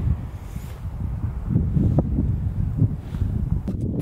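Chilly wind blowing outdoors near mountains in Svalbard, a steady low rumbling gust buffeting close against the microphone, with faint rustling and no voices.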